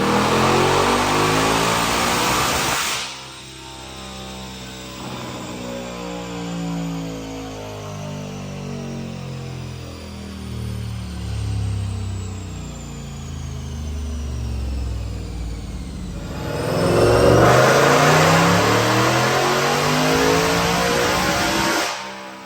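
A 2024 Mustang Dark Horse with a Whipple stage 2 supercharger and long-tube headers on a dyno, roaring loudly at first, then dropping back and climbing steadily through the revs before peaking at full throttle near the end.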